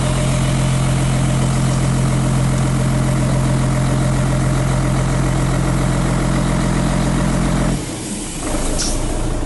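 A dump truck's diesel engine idles with a steady heavy rumble and hum while the body raises through its power take-off, loud and close, with a brief change in tone near the end and no talk.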